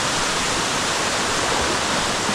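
A Lake District waterfall at a wild swimming spot pours in a loud, constant broadband roar, close and unbroken.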